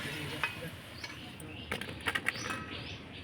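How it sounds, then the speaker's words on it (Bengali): Jackfruit-leaf papads frying and puffing up in hot oil, a low steady sizzle with a few sharp crackles and light clinks, close by and quiet. "দেখুন কত সুন্দরভাবে তেল থেকে বড় বড় হয়ে যাচ্ছে পাঁপড়গুলো ফুলে।"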